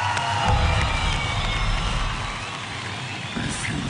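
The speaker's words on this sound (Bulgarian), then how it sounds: "На тази сцена аплодисменти за Scary Shadows!" Crowd at a dance competition cheering and shouting loudly for a dance group on stage, a dense continuous roar of voices with whoops.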